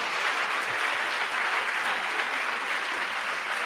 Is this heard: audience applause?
yes